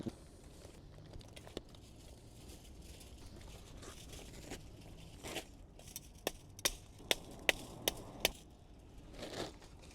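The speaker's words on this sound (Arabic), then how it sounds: "نجيب بقى كيس الفحم ده فحم مولعينه واحنا من البيت قبل ما ننزل" Unlit charcoal poured from a bag into a street grill for grilling fish, heard as scattered rattling and patter with a few sharper clattering knocks bunched toward the end.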